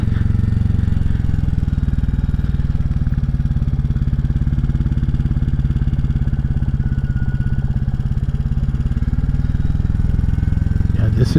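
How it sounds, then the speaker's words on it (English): Royal Enfield Classic 350 riding through Powys, Wales, its exhaust giving a steady, loud, close low-pitched thumping rumble that stays even throughout. "rumbles from the exhaust."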